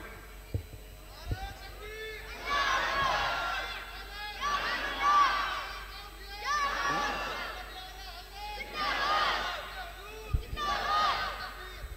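A crowd at an Islamic jalsa gathering chants the Naara-e-Takbeer slogan, several rising waves of many voices shouting together in rhythm, moderately loud and somewhat distant in a reverberant space.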